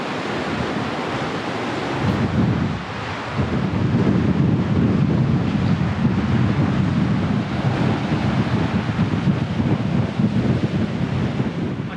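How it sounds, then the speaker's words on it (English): Strong wind buffets the microphone on a coastal headland on the NSW South Coast, a loud continuous roar mixed with crashing surf that rises after a brief lull and stays heavy and unbroken. "I can't quite convey just how windy it is"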